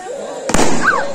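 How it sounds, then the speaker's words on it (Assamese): A firecracker bursts with a sharp loud bang at a wedding, followed by a brief crackling tail, amid crowd noise and a voice talking. "বম ফটকা ফুটাই আছে"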